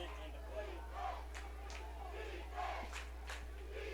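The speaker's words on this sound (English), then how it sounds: "the crowd getting into it here." Football crowd at a College of San Mateo versus Modesto Junior College game, with distant cheering and yelling swelling in waves over a low steady hum, a few sharper shouts standing out.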